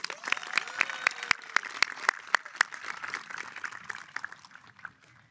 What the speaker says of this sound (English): Please join me in a big round of applause for our educators.